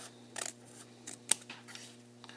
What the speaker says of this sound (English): you're going to cut your semicircle out. You can use regular scissors